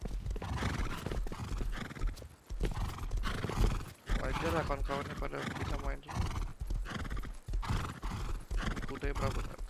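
Horses from the video game Rust whinny and neigh repeatedly while hooves clip-clop in a steady patter, loud and close, running under continuous overlapping talk from several players.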